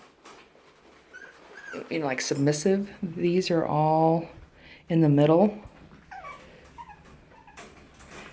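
Cairn Terrier puppies whimper and yip in a few high, wavering cries in the middle of the clip, close by, with a person talking quietly around them.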